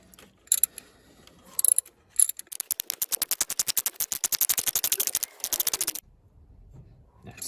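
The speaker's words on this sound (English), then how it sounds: "All that's left is to tighten them down a little bit. I'm gonna use my ratchet." A hand ratchet tightens bracket bolts on a 2014 Opel Corsa D 1.4 engine. A few scattered clicks come first, then a long, even run of rapid close clicks that stops suddenly, leaving near silence.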